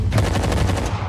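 Intense automatic gunfire rattles through a film shootout, a rapid, loud burst of close shots lasting about a second with no speech.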